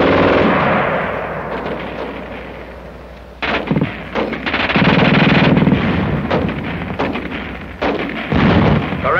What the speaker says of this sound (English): Gun shoots fast.